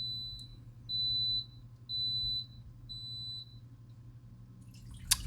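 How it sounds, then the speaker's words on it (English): An aquarium auto top-off unit gives a high electronic beep four times in a slow, even rhythm over a low steady hum, followed by a brief clatter. "we're going to beep and beep and beep"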